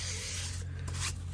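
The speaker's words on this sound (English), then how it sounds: "We're going to give the tire a good scrub." A brush scrubbing a car tire during a wheel and tire cleaning, with a close, continuous bristly rubbing and rasping over a low steady hum.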